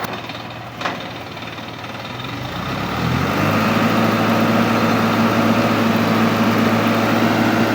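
A boom truck's diesel engine idles and then revs up to a steady, loud drone that fills the rest of the time, at night in a residential neighborhood with no one talking.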